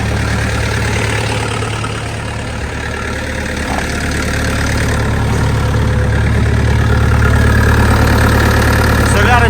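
A homemade diesel generator engine runs steadily at idle, a loud continuous rumble with a low throbbing hum and faint mechanical knocking throughout.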